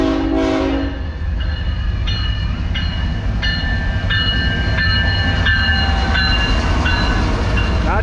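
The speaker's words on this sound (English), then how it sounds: "Ooh, we got a train coming." A train rolls right through the middle of the small town of Bellevue, Iowa, its horn sounding in several long blasts over a loud, steady low rumble of rail cars passing close by.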